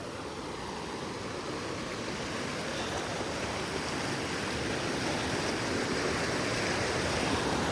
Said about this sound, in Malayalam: ഇത് ഐസ് ഉരുക്കി വരുന്ന വെള്ളം കേട്ടോ